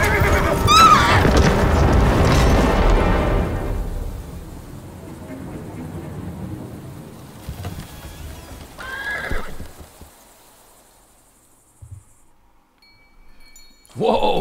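A horse in the game Grim Legends: The Forsaken Bride whinnies loudly with clip-clopping hooves and a carriage, fading to quieter sounds and brief speech.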